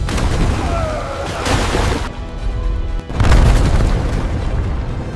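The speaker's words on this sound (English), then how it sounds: "after impact, the warhead detonates. The outer hull ruptures." A torpedo warhead detonates against a nuclear submarine hull in a deep, heavy boom with a crashing rumble, followed by a second loud blast after a brief lull.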